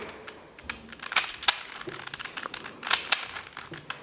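Quick plastic clicks and rattles come in small bursts as something is twisted and turned, close up and fairly quiet.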